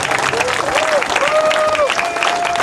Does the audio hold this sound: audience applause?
yes